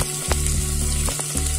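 Onions frying in a pan for vegetable noodles, a close, constant sizzle with a steady hum and a few brief scraping strokes of stirring.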